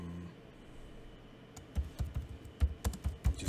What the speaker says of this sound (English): I'm just going to type anything in there.